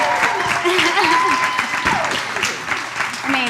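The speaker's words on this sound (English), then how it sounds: "let's give them a round of applause" Audience applause for panel speakers at an entrepreneurship panel, loud sustained clapping with cheering voices mixed in.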